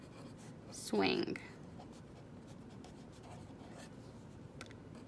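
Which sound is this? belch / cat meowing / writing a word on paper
writing a word on paper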